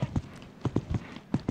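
A horse's hooves clip-clop in quick uneven pairs on ground at a show jumping prospect competition, fairly close and steady, with a faint murmur of background crowd or commentary.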